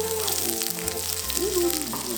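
Shallots frying in a hot pan as the first step of Indonesian fried rice, a steady close sizzle and crackle running the whole time with no talk over it.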